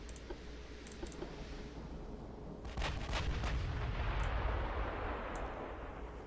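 8-inch naval guns firing in the video game Ultimate Admiral Dreadnoughts, a deep booming salvo midway with a rumbling roar that lingers, preceded by faint clicks and a low background hum.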